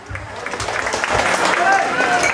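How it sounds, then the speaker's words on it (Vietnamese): Wedding guests clap together at a Vietnamese wedding ceremony, a steady dense patter of applause that grows a little louder, with an announcer's voice over it. "xin quý vị cho một tràng pháo tay thật là to"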